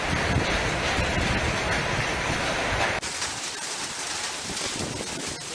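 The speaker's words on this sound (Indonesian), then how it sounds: "Hujan es." Hail falling with strong wind on a hillside village in the Muria mountains, Pati, a dense steady roar of pelting ice and gusts throughout, close and loud, easing slightly in the latter half.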